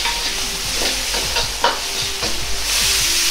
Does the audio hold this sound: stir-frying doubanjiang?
yes